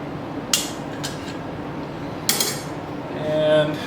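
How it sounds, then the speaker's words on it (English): A steel chisel strikes a steel file being cut for forging, giving two or three sharp metallic clinks spaced apart, up close and fairly loud, with no talking. "I'm going to use my chisel."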